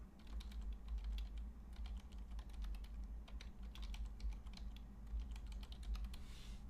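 Someone types a password on a computer keyboard: a quiet run of quick key clicks in uneven bursts, with a low steady hum underneath and no speech.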